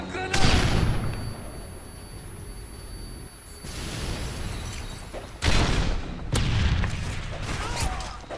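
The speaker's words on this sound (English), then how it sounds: "Stun grenade!" Blasts and gunfire in a Modern Warfare 3 search-and-destroy match, with a stun grenade among them: loud booming bursts and rattling shots come in several waves, close and heavy, with no talking.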